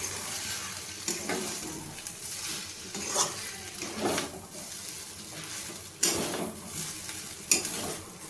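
Egg chicken chow mein being stirred and tossed with sauce in a hot pan, home-cooked in shop style, with steady sizzling and repeated scraping, clattering strokes of a utensil against the metal.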